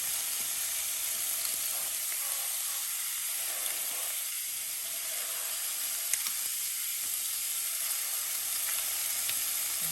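Steady crackling sizzle of meat frying on a hot Ninja Foodi Smart Grill XL electric grill, continuous and fairly close, with small pops scattered throughout.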